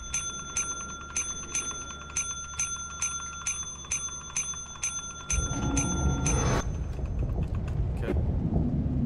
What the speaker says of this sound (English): don't spam the ring bell